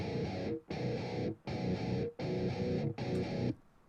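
Cello processed to sound like a distorted metal guitar, playing four sustained, gritty chords separated by brief gaps, loud and alone before a fading tail.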